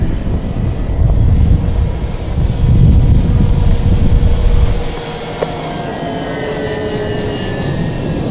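An Avios BushMule RC airplane flies overhead, its small electric motor a whining buzz that rises and fades with some outdoor rumble, then continues as a thinner tone.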